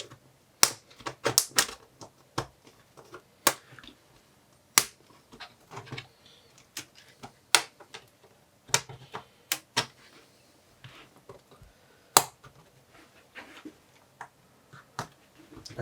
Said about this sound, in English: we just keep pushing in and lifting up the pry tool to undo the little plastic snaps